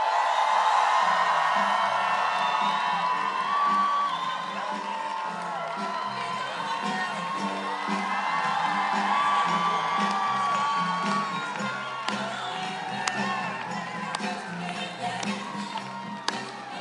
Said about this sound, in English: can I just have the crowd make some noise as much as you can for our governor?